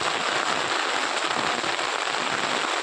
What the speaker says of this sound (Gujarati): કશું દેખાતું જ નહીં એટલો વરસાદ પડી રહ્યો છે